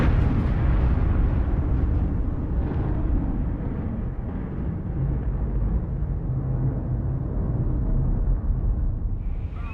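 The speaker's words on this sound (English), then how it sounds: "there was a massive explosion" Massive chemical reactor explosion at a laboratory, heard as a heavy continuous low rumbling roar that fills the whole stretch and slowly fades near the end, with no voices.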